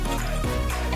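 Freshly squeezed lemon juice pours into a container, giving a short, continuous liquid splash and trickle that lasts about a second.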